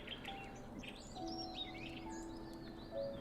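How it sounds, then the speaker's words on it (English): Birds chirp and whistle in soft, scattered calls over a steady ambient hum in the video game Terra Nil, faint and distant with no talking. "Oh, birds! I hear birds."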